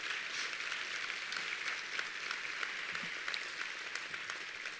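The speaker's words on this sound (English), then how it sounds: "Let's give Governor Patton and Judy a big round of applause." An awards night crowd gives a round of applause for a governor and his wife, a dense continuous wash of many hands clapping, heard somewhat distant and fairly quiet.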